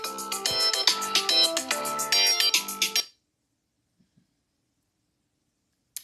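A telephone ringtone from an unknown caller plays a bright, repeating melodic tune for about three seconds, loud and alone, then cuts off into near silence.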